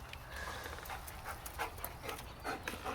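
A wet German Shepherd pants in quick, rhythmic breaths after playing in the rain, quiet and close with faint outdoor background.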